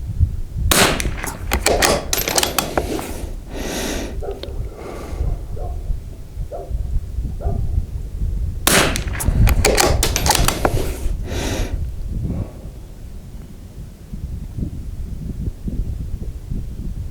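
Rimfire rifle shots fired as a five-shot group during barrel velocity testing, comparing a 24-inch 16-twist and a 22-inch 12-twist barrel: two clusters of sharp cracks several seconds apart, loud and close, with a busy rumbling background between them.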